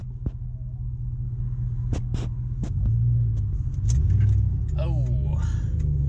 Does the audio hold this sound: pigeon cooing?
no